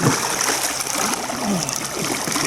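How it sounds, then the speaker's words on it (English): A swimmer in clear sea water produces steady, close sloshing and trickling water noise with faint splashes throughout, and no talking. "the water is so clear here that I can take the opportunity to take a swim"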